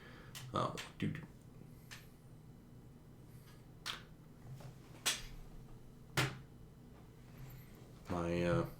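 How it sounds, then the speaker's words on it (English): A router gives off sharp, isolated clicks at irregular intervals, moderately close, over a low steady hum with a brief harmonic buzz near the end. "My router was making clicking noises."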